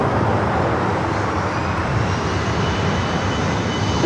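An airliner taking off from runway 24 left at LAX, its engines a loud, steady broadband roar sustained throughout.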